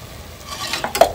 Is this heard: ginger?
yes